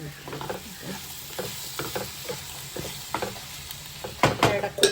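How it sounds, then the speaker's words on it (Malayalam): Ivy gourd (kovakka) stir-fry sizzles in a pan while a spatula scrapes through it in repeated strokes, ending with a louder burst of clattering stirring. "ഇളക്കിട്ട് കൊടുക്കണം ഓക്കെ അതാ നമ്മളെ കോവക്ക മേക്ക് വരട്ടി നന്നായി ഫ്രൈ ആയി വരുന്നു"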